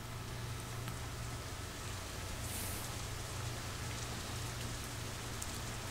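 Steady rain falls in the Katawa Shoujo visual novel, a constant even hiss of drops on surfaces with a low rumble underneath, continuous and moderately loud throughout with no voices.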